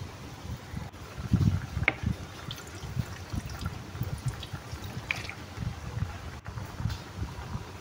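Fish in coconut milk with a little added water simmers in a pot, a steady low bubbling and gurgling with soft irregular pops, continuous and fairly close throughout.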